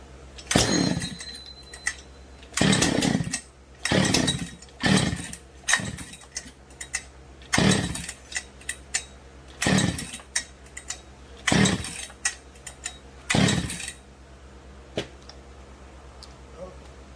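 A Husqvarna 268 chainsaw converted to a 272 is pulled over repeatedly. Roughly nine loud, separate cranking bursts come close together without the engine catching, with short quiet gaps between them.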